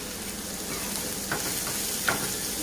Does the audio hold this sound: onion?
yes